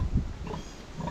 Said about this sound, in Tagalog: Ayun yung alaga natin baboy